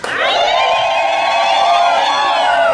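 A wedding crowd ululating together, loud sustained high trilling cries from many voices blending into one continuous shrill wavering chorus close by.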